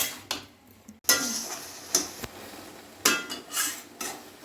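Spoon stirring amla pickle with melted jaggery in a pan, sharp metallic scrapes and clinks coming in irregular bursts with brief pauses, close and clear, no talking.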